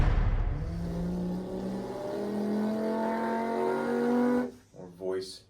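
A human voice imitates an F1 racing car engine, a close, sustained buzzing whine that climbs in pitch like an upshifting engine, then breaks off into short lower bursts at the end.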